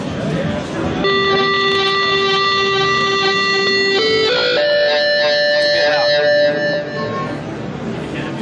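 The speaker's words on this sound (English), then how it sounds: "this ball is going to control the gain of the distortion" A MISA Digital Kitara USB MIDI guitar synth plays a buzzy, distorted tone holding steady notes, then jumps to a higher pitch with a grittier, wavering edge as distortion gain changes, playing alone.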